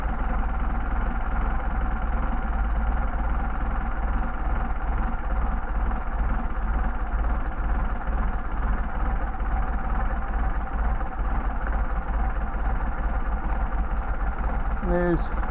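An engine fitted with Solex 44PHH carburetors idles at low RPM, a steady deep rumble with a faint uneven lope, continuous and close throughout.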